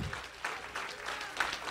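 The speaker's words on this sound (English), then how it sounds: "I want everyone to clap your hands right now to the Lord." Church congregation clapping hands together in worship, a dense, steady wash of applause with sharper bursts, no talking.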